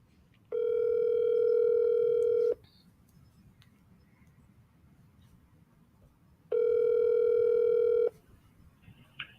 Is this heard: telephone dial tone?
yes